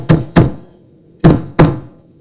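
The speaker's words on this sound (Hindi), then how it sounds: "तभी नीति को दरवाजा खटखटाने की आवाज आती है।" Four hollow knocks on a door, two quick raps, a pause, then two more, close and distinct in an otherwise quiet room.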